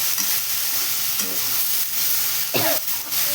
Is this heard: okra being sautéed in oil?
yes